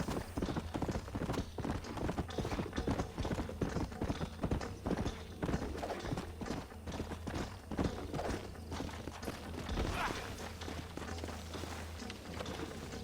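Horse hooves clip-clopping in the video game Red Dead Redemption on Xbox One, a brisk, steady rhythm of close hoof beats that runs the whole time with faint thuds, no talk.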